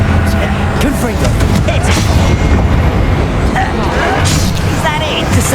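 Confringo fire spell explosions in the game Hogwarts Legacy, booming blasts and crashes layered over continuous combat noise, with a voice speaking throughout.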